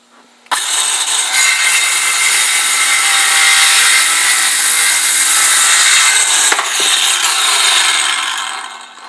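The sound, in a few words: Ryobi 18V 5 1/2 inch circular saw cutting wood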